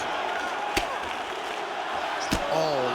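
Crowd noise in a UFC 5 mixed martial arts bout, a steady arena murmur with two sharp impact thuds and a brief swell of reaction after the later one, beneath commentary voices.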